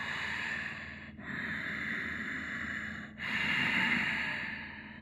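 Deep breaths are drawn in and let out during a full locust yoga pose, three long airy breaths with short pauses between them, close and soft.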